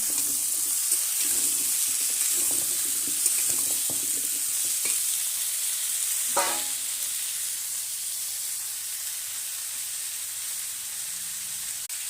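New potatoes frying in a pan make a loud, steady sizzling hiss throughout, with a few soft clicks of stirring early on and one sharper scrape near the middle; no voices.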